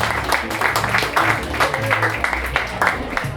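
Audience applause for comedian Damien Power at The Scottish Prince, a brief burst of clapping from a small crowd under a host's voice.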